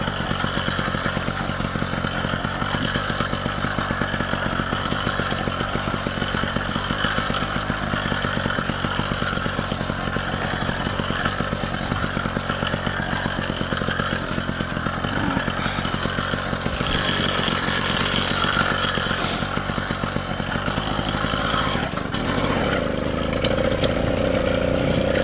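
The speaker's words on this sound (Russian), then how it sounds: "Смотрите, горячий двигатель, хорошо." A warmed-up all-terrain vehicle engine runs continuously and revs at close range, a steady dense mechanical drone with harsh noises on a first taiga outing by a river.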